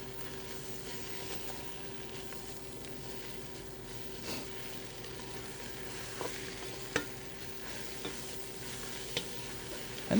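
Onions fry and caramelize in a pot for French onion soup, a soft steady sizzle with a few faint stirring clicks and scrapes, no talking.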